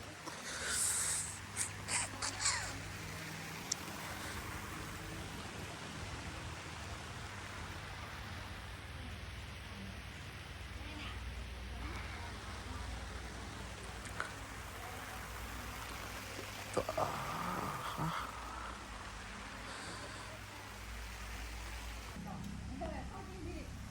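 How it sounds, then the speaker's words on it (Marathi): Steady rain hisses and patters outdoors for a long stretch, with a person talking quietly now and then over it. "फायनली पाऊस आलेला आणि मला मस्त वाटते आता पावसात"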